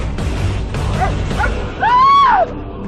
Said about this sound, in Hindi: भौंकता हुआ कमरे के बाहर भाग गया।